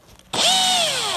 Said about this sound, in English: So I'm actually gonna put this on the drill real quick.